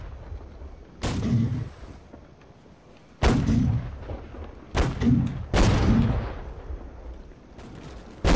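Naval cannon fire in a video game, aimed at a French ship: four heavy booming shots at irregular intervals, each a loud sharp blast with a rumbling tail and no talk between.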